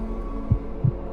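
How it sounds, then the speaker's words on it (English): Two deep, soft heartbeat thumps pulse about a third of a second apart over a steady low hum in the video game (Don't) Open Your Eyes. "can you hear it? Is the heartbeat in-game?"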